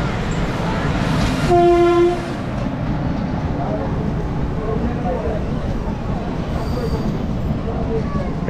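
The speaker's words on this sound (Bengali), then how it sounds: "এটা হচ্ছে new Jalpaiguri intercity, Malda town new Jalpaiguri intercity express" Horn blasts from the New Jalpaiguri Intercity Express, the Malda Town–New Jalpaiguri service, as it passes near Harishchandrapur station; two long tonal blasts come early, over continuous loud rumble and rail noise, with some talk.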